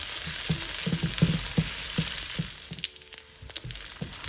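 Okra and peppers fry in oil in a pan with a steady soft sizzle, broken by a series of light clicks and knocks from stirring, at moderate volume with no talking.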